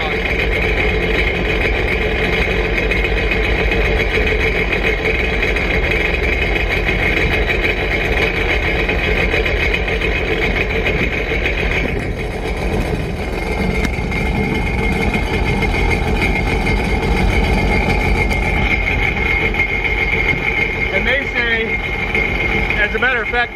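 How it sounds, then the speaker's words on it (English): A 2018 Sea-Doo GTX Limited 300 personal watercraft engine idles steadily and loudly at close range, a continuous droning rumble that never lets up. "Now, with the engine running,"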